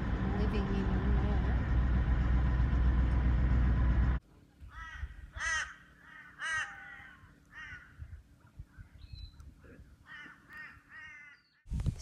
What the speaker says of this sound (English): So apparently we have lovely bird life at this camp, which would be nice.